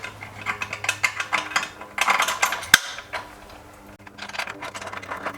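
A hex tool works a bolt on a BMW R1250GS or R1300GS motorcycle skid plate, giving a quick run of close ratcheting clicks and metallic mechanical rattles, with a brief pause before the clicking resumes.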